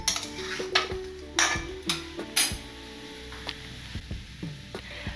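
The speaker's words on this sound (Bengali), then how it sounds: "একটু ভালো করে কষিয়ে নিতে হবে যাতে ওই পোস্ত নারকোলের কাঁচা গন্ধটা না থাকে" Poppy seed and coconut paste fries in a pan while a utensil scrapes and knocks against the metal in irregular strokes, over a soft sizzle with no voices.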